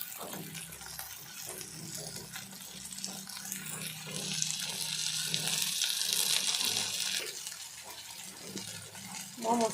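Water poured from a mixer jar into frying masala for Assamese paneer curry, a steady splashing gush building in the middle and running several seconds, close and moderately loud.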